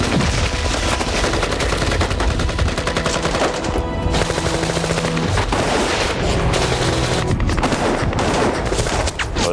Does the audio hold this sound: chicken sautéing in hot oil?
no